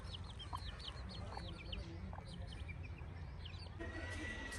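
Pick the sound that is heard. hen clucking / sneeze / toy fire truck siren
hen clucking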